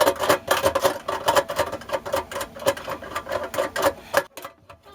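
Screws are backed out of the mounting bracket of an Insinkerator 1/3 HP garbage disposal, a close, rapid rattling buzz with steady pulsing ticks that runs for about four seconds and then cuts off.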